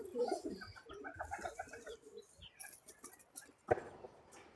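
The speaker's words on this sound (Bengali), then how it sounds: "এই যে গোলা পায়রাটা।" A rock pigeon coos softly nearby, a low throaty murmur, followed by a brief flutter or knock near the end; quiet background.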